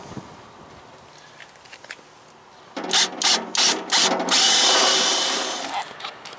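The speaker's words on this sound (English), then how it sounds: "handful of self-tapping screws, stainless steel. I'm using a 8mm head for the socket" Ratchet socket wrench with an 8mm head driving stainless steel self-tapping screws while fenders go onto a teardrop trailer: rapid clicking bursts start midway, then a sustained grinding whir as a screw bites in, close and fairly loud.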